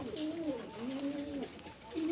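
A flock of pigeons feeding together gives soft, rolling coos close by, several overlapping calls rising and falling across a couple of seconds.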